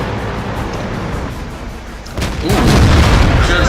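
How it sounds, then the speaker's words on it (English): A tank cannon shot strikes an E75 in the World of Tanks video game, a deep boom that follows a steady engine rumble and swells into a loud, sustained impact roar. "Good flank shot into the E75."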